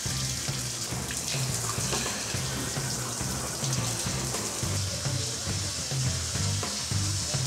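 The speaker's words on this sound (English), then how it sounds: "Wow, that shower head really pumps it out." A strong shower head sprays water against a bathroom wall during a home inspection water test, producing a loud, steady hiss and splatter that runs continuously, with a low rhythmic pulsing underneath.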